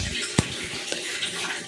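A tap runs with weak water flow, giving a faint, thin trickle with a couple of brief splashy drips, quiet and close, with no talk.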